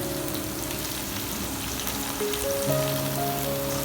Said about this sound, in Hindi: लहसुन को आपने बहुत ज़्यादा पकाना नहीं है, लाइट से इसको हमने फ्राई करना है